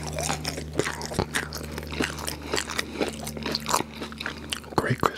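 Someone bites into crunchy McDonald's chicken nuggets dipped in sauce, right at the microphone, with a run of sharp, uneven crunches and chewing.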